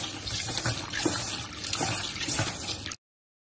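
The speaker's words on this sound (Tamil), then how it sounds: "பச்சரிசி ரெண்டு கப் எடுத்துருக்கேன். நம்ம கழுவிட்டு" Two cups of raw white rice being washed in water, a steady swishing, running-water wash for about three seconds, close and fairly loud, with no talking.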